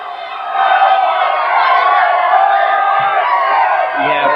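A crowd at a 1990 high school football game between Montclair and Morris Knolls roars and cheers steadily, a dense, loud wall of voices that holds throughout with a few low thumps near the end.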